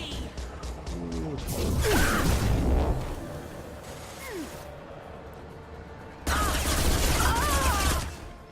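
Combat in the Mass Effect 2 video game, with bursts of gunfire, a whooshing impact, and a loud sustained fusillade toward the end, all mixed with game effects and background clatter.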